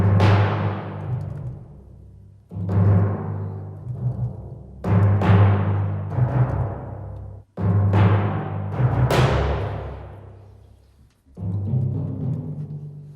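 Orchestral timpani struck in a slow sequence of deep, resonant booming strokes, each ringing out and decaying over a second or two, with several pitched notes and a final softer hit, played alone and close.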